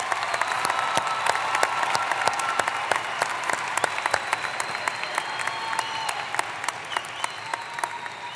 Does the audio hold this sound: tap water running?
no